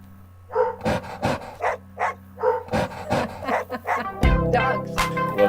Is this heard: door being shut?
no